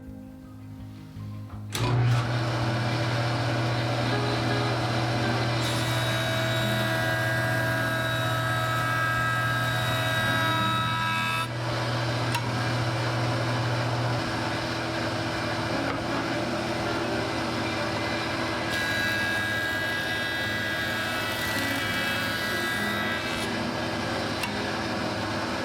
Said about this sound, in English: I'll plug in the joiner and run another noise level test.